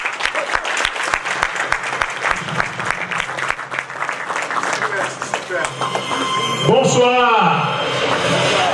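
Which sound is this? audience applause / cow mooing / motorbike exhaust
audience applause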